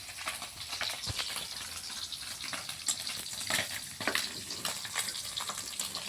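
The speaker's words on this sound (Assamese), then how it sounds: "এয়া পুঠি মাছ ফ্ৰাই কৰি হৈ গৈছে।" Small puthi fish frying in a pan over a fire, a steady crackling sizzle with scattered sharper pops and spatters throughout, fairly close and with no talking.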